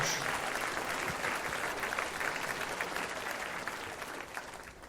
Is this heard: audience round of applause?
yes